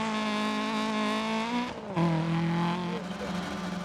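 Rally car engine in Dirt Rally 2.0 holds a strong, buzzy drone, dips briefly as it shifts, then climbs again in a steady, loud revving tone.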